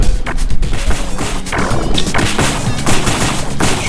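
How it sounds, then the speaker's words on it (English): Gunfire in the video game The Second Samurai: loud, rapid bursts of shots and impact crashes in a dense, continuous barrage with no talking over it. "Shooting."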